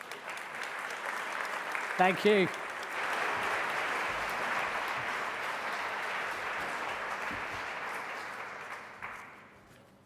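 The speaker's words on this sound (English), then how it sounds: "Round of applause for Terry there." Sustained audience applause fills a Pride of Guernsey awards ceremony, steady and dense for about nine seconds before tapering off, with a brief spoken thanks near the start.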